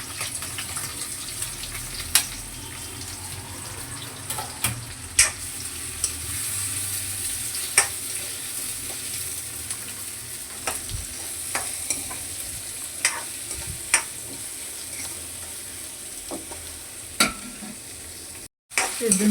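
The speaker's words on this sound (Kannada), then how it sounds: "ಈರುಳ್ಳಿ ಹಾಕಿ ಫ್ರೈ ಮಾಡ್ಕೊಳ್ತೀನಿ." Onions and curry leaves fry in a pan, giving a soft steady sizzle close by, broken by sharp clinks and scrapes of stirring at irregular intervals.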